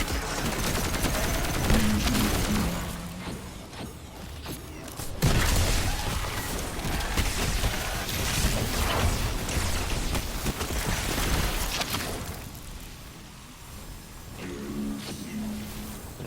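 Rapid bursts of gunfire and booming explosions from a first-person shooter during high-level build crafting, loud and continuous with dense layered shots, while a voice talks over the action.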